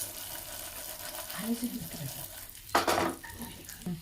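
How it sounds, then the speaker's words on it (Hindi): Dry fruits and raisins lightly roasted in a pan, heard as quiet stirring scrapes and a faint sizzle, with a louder clatter near the end while someone talks. "तो देखिए इस तरह से हमने ड्राई फ्रूट को हल्का सा भून लिया।"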